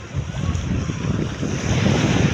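Beach waves at high tide wash and rumble close by at a Tanza, Cavite beach, steady surf noise mixed with wind buffeting the microphone, no talking.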